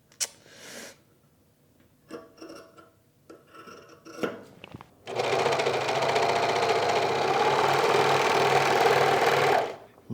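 A sewing machine stitching a rib knit neckband onto a white tee runs in one steady, loud whirring burst for about five seconds, preceded by fabric handling and a few clicks.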